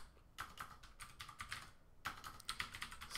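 Mechanical keyboard keys clicking in quick irregular bursts, with a short pause in the middle before the clatter resumes, close and fairly quiet.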